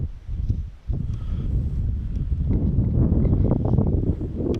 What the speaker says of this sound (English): the wind kicked up to long 80-mile-an-hour gusts